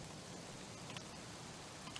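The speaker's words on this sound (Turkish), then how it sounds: "Dışarısı yağmurlu, üşümüşündür." Steady rain falls outside in the Car Dealership Simulator video game, a constant soft hiss of drops on surfaces with a few faint brighter patters, alone and low in level throughout.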